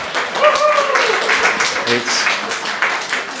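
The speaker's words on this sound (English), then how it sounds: "Round of applause, okay?" Congregation at a church service giving a round of applause, a dense, fairly even patter of many hands over a few seconds, with voices talking and cheering over it.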